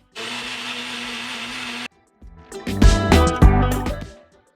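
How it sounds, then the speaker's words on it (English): A small blender buzzes steadily for about two seconds blending garlic and onion with no liquid, and cuts off, followed by rattling, clattering handling noises. "blend them all without adding any liquid"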